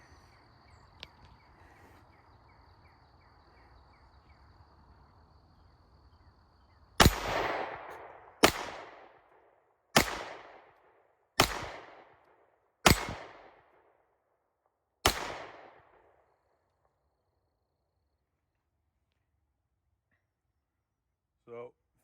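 Six loud, sharp gunshots from a 1911 G-Force Arms Chronicle 9mm pistol with a 5-inch barrel, fired singly at uneven intervals of one to two seconds, each with a short ringing decay. Quiet background murmur comes before them.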